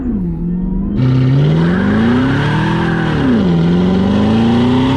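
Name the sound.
Cadillac CTS-V launching, engine revving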